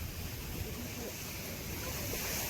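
Sea waves at Malvan break against coastal rocks in a close, steady roar of surf mixed with gusty wind noise across the whole stretch, with no pause or separate crash standing out.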